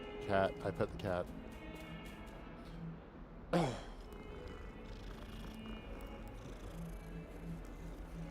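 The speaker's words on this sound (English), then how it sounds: "I pet the cat." A cat in the Hogwarts Legacy video game purrs softly while being petted, a faint low rumble under the in-game ambience, with a short vocal burst near the start and another a few seconds in.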